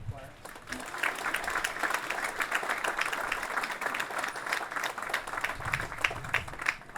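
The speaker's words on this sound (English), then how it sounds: "Could we please have another round of applause for the choir?" A large audience applauds a choir at a Navy League gathering for the USS Cincinnati grand opening, with steady, dense clapping sustained throughout at moderate distance and a little voice chatter mixed in.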